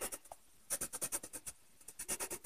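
A very blunt pencil shades on paper in quick, scratchy strokes, close and fairly faint, with short pauses between bursts.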